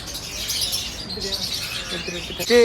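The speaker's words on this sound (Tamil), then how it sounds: "நிறையா கிளிகள் இருக்குங்க உள்ள" Small birds, parrots and sparrows chirping in an aviary near Hogenakkal, a busy mix of close high tweets and calls, with a louder squawk at the end and voices faintly underneath.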